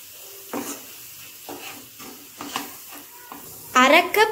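Paneer curry with garam masala is stirred in a pan. Intermittent scraping strokes sound over a quiet background, and a brief louder hiss and sizzle rises near the end.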